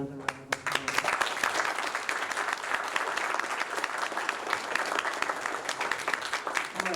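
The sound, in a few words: audience applause for Tolkien panelists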